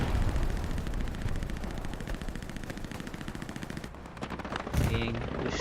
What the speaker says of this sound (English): Tank is also shooting at it.